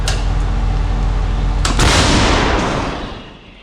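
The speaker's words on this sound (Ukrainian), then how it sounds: "Так працює самохідна артилерійська установка Богдана на прикордонні Сумщини." A Bohdana self-propelled artillery gun fires near the border in Sumy region, Ukraine, with a deep, booming blast, followed by a second sharp crack and a long rumbling echo fading away.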